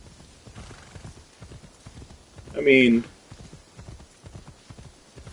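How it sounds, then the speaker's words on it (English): A horse in the video game Assassin's Creed Shadows gives a short, loud whinny near the middle, over soft rhythmic hoof clip-clop, while a person talks briefly. "the horse is moving."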